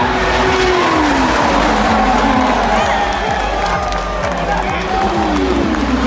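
IndyCar race cars scream along the front stretch at the Long Beach Grand Prix, with loud engines rising and falling as they pass and a crowd murmuring underneath.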